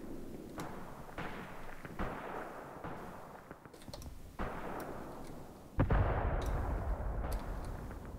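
Mortar shells land in the wargame Graviteam Tactics, a series of sharp thudding blasts roughly every second or so over a constant low battlefield rumble, the loudest impact arriving near the end and ringing out afterward.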